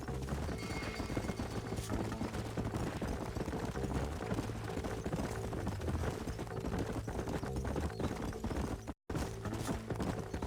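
Horses' hooves clip-clop steadily in Red Dead Redemption, a continuous rhythmic trotting under dense game music and ambience, with a brief dropout near the end.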